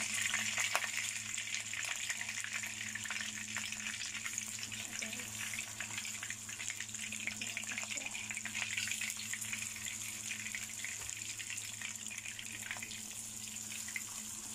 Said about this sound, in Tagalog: Yan ang isda. Iprito natin.